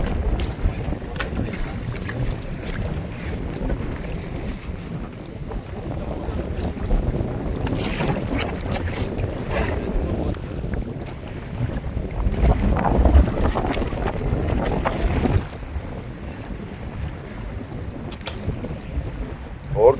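Strong wind buffeting a fishing boat at sea, a continuous rough roar of wind noise and water rumble that swells and eases, loud and close throughout.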